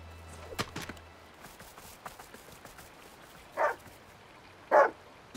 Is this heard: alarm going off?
no